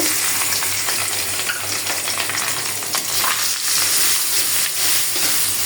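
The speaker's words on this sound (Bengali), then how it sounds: "এখন আমি ডিমটা বাজি করে নেব" Egg is fried in a pan of hot oil, a loud close sizzle with continuous crackling and hissing that stays dense and even throughout, with no voices.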